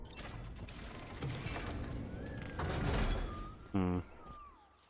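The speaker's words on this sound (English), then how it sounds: "Definitely heard the door open" A mechanical door sliding open in Halo Infinite, a short grinding, ratcheting burst near the end, following quieter whirring game ambience and faint tones.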